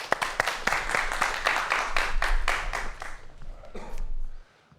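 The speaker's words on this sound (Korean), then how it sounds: "자, 박수로 청해보도록 하겠습니다." An audience at a management lecture breaks into applause. Dense clapping builds, rolls along at full strength, then thins out and stops near the end, with no clear speech.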